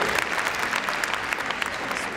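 Close, lively applause from an arena crowd at the Crufts dog show during a gundog display, a brisk wash of many hands clapping with crisp individual claps popping through.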